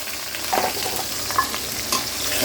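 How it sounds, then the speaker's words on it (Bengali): Cubed onion hitting hot oil in a pan, a dense steady sizzle with small bursts of crackle and light stirring clinks, close and clear, with no talking. "এখন আমি এই গরম তেলে পেঁয়াজ কুচিটা দিয়ে দিব"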